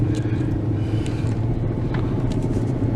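A 2004 Jaguar XJ8 drives down a dark street with a steady low engine rumble and road noise, heard close from inside the car, no talking.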